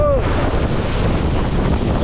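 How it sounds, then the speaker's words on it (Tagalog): Big waves wash around a boat on rough open sea, with heavy wind buffeting the microphone throughout in a loud, constant roar. "malalaki na ho ang alon, mga bisig"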